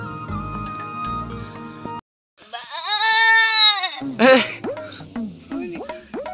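A goat bleats several times, first a long wavering cry after a moment of silence, then a string of shorter bleats, loud and close, following a few seconds of unrelated background sound.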